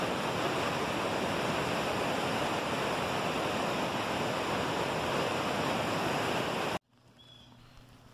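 Loud, steady rushing water of rapids with waves up to 20 feet at Niagara Falls roars like heavy surf, constant and broadband, then cuts off abruptly near the end to quiet background.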